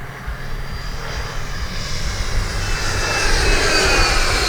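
An E-flite 90mm Viper RC jet, an electric ducted-fan model, roars steadily at three-quarter throttle in flight. The loud, broadband whoosh holds throughout and swells slightly toward the end.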